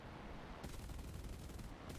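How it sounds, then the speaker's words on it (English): Cannon fire from a Bf109 F-4 Trop fighter in War Thunder, a rapid burst of shots starting partway in and continuing over the steady drone of the aircraft. "I decided to go after this IL-10 with what was left of my cannon ammo, get some hits"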